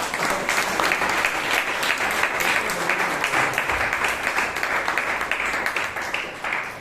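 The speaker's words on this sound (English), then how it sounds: "Give him a round of applause." A Toastmasters club audience in Bangalore claps for a speaker being called up, a sustained, even round of applause at moderate volume throughout.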